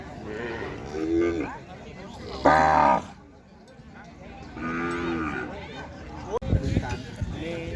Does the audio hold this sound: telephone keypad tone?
no